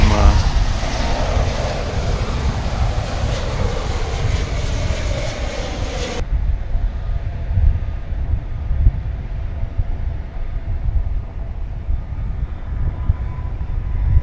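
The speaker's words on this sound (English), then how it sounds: "that's a 777 American Airlines, as you can see." An American Airlines Boeing 777 arriving at DFW airport, its engines giving a loud, steady, far-off roar with a broad rumbling hum that carries on throughout, and no voices.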